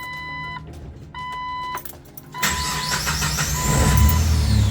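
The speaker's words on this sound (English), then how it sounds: "Let's turn on the car." A Jeep engine cranks and starts after some chiming tones, then settles into a steady idle that fills the rest of the clip, close and fairly loud.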